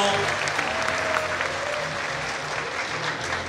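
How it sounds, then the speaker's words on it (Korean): A seated audience at a Korean alumni lecture on ageing claps to welcome a speaker, a short, dense burst of applause with a voice speaking briefly over it. "여러분 큰 박수로 맞아주세요"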